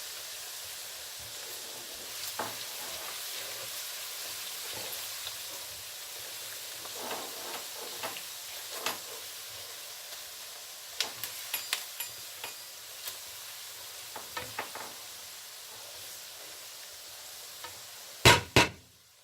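Mixed vegetables fry in a pan for a Punjabi-style dish, making a faint, steady sizzling hiss with scattered soft clicks of stirring that grow a little more frequent, then two sharper knocks near the end.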